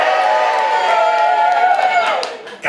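A comedy club audience cheers and whoops in a crowd roar that holds steady, then fades out near the end.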